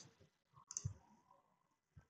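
A few soft, close computer mouse clicks sound sharply in a quiet room while verifying a document in a blockchain verification app.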